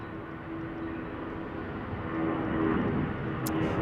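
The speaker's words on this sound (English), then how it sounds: "Here's an A320 departing to Denver." An Airbus A320 jet takes off at Salt Lake City airport, heading for Denver: a distant, broad engine rumble that slowly grows louder.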